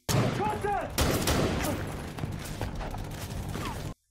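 A burst of rapid gunfire in an action film, loud and close, a dense rattling volley of overlapping shots with mechanical clanks, running for about four seconds before cutting off sharply.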